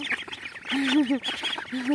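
Quacking from a neighbour's duck kept as a pet at home: a few nasal calls come in short bursts, close and moderately loud, with no other sounds around them.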